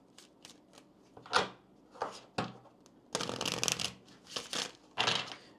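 A deck of Kipper cards being shuffled in quick, crisp riffling bursts, with short separate flicks first and then a longer dense run of card slaps, close and fairly quiet.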